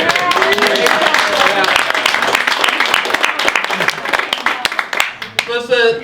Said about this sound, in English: why don't you all give yourselves a round of applause again?